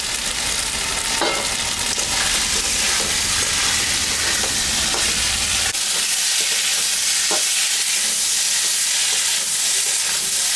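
Spices, green chillies and soybean chunks sizzle steadily in a hot pan for a paneer-soybean curry, with a constant close frying hiss and scattered scraping stirs throughout.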